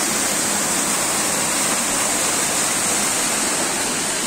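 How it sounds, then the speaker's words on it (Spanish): A steady, loud roar of falling water fills the scene, broadband and constant with no breaks, like standing close to the Hornacina waterfall in the Góngora canyons, Montealegre. "Aquí estamos en la cascada de la Hornacina."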